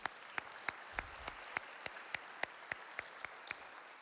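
Faint, sparse clapping at a scholarship luncheon: a dozen or so distinct, evenly spaced claps over four seconds, heard alone in a quiet room.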